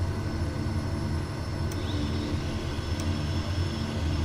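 A Kodiak 100 turboprop in Microsoft Flight Simulator 2024 drones through its takeoff roll on runway 29, a steady, loud engine roar with no talk over it.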